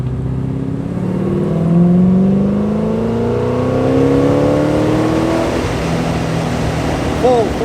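An LS V8 in a Porsche 944 accelerates hard at full throttle, a deep loud engine roar climbing steadily in pitch through the gears, heard from inside the car with a voice partly over it.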